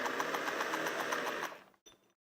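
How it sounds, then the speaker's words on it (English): A roughly 70-year-old vintage sewing machine stitches fabric for a quilted pillow cover, its needle chattering in a fast, steady mechanical rhythm for about a second and a half before slowing and stopping, with a brief final clunk. "they sew like a dream, even though most of these machines that I own are 70 years old"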